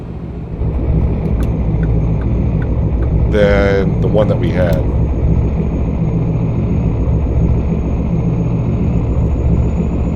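A truck engine in American Truck Simulator drones steadily and loudly at low revs throughout, a continuous rumbling hum under a voice with a brief burst of talk early on.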